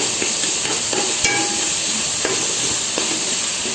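Chopped tomatoes cooking for kushka biryani give a steady close sizzle and hiss as they are stirred in the pan, with a few faint scraping touches and no talking.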